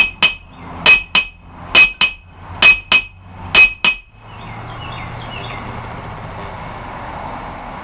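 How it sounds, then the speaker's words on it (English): A hammer strikes the face of a Harbor Freight Doyle anvil six times in an even rhythm, each blow ringing sharply and close, then the ringing gives way to a steady low background hum. "if you're smacking the face of any anvil, it would handle that"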